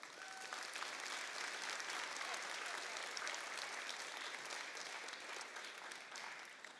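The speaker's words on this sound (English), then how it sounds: "You all deserve a round of applause for yourselves." Sustained applause from an audience at a FIRST robotics district event in Sammamish, steady and dense throughout with no voices standing out.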